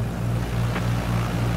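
An airplane engine idles with the throttle cut fully back on approach in Microsoft Flight Simulator 2020, a steady low droning hum with no changes in pitch.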